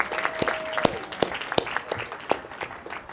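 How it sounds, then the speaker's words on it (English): Sparse, scattered claps from a small studio audience during a diet book interview, individual hand claps popping out at an uneven rhythm, fairly quiet and close. "So give a big round of applause for Tara."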